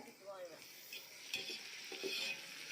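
Onions and a slit green chilli sautéing in a pan, with a quiet continuous sizzle broken by a few scraping stirs of a spoon against the metal, close and fairly soft.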